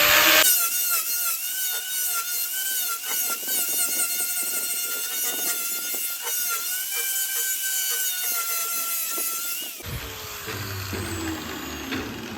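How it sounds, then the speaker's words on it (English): A power sander grinds steadily across a marked area of a metal plate, cleaning it for welding on an electric trolling motor mount, loud and continuous for about ten seconds before cutting to a different, rougher tool noise. "I'm just going to sand up what I've marked out here"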